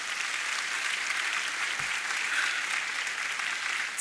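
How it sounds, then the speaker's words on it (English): A graduation ceremony crowd breaks into loud, continuous applause, a thick wash of clapping from a large audience that holds steady for several seconds. "Let's give ourselves a big round of applause."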